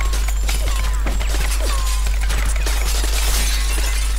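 Glass shattering in the video game Mafia 2, a continuous run of loud crashing breaks and tinkling shards under a constant low hum, with no speech.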